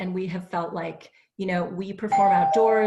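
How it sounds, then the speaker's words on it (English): A house doorbell chimes with bright ringing tones near the end, sounding under a person who keeps talking over it. "Sorry, that was our doorbell."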